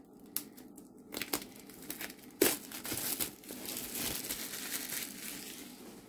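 Plastic wrap is crinkled and torn off a diamond painting box, with scattered close crackles and rustles, one sharper rip near the middle, and then steadier crinkling.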